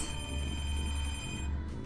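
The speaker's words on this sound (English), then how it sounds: "The freaking phone again!" A household telephone rings out loud and close in a house, one continuous electronic trill with steady high tones over a low background hum and no talking.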